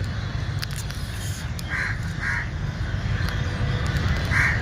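A bird gives three short, harsh calls spaced a second or so apart, standing out over a constant noisy outdoor background.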